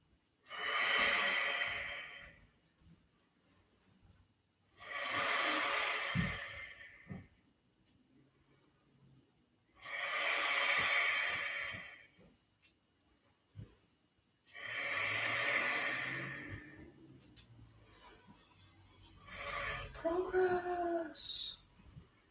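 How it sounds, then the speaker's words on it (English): Qigong strong fire breathing: rapid, forceful breaths in repeated loud bursts, each separated by a short pause, close and alone with no other sounds. "And now strong fire, 9 breaths."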